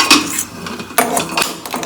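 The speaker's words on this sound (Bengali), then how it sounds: "দেখো এরকম ভাবে আমি কন্টিনিউ নাড়াচাড়া করব।" A spoon or spatula scraping and knocking against a pot while grated coconut filling is stirred, a few sharp clanks and scrapes in quick irregular succession, close and clear with no talk.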